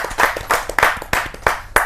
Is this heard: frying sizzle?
no